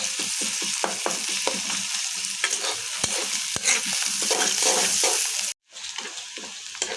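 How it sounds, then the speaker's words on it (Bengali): Onions frying in a pan and being stirred, a loud close sizzle with repeated scraping strokes, broken by a brief drop to near silence before the frying resumes. "একটু পেঁয়াজটা আমি একটু লাল করে নেব"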